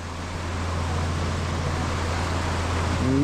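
A ship's engine running without stopping on the Pacific Ocean, producing a steady low hum under broad, even noise throughout.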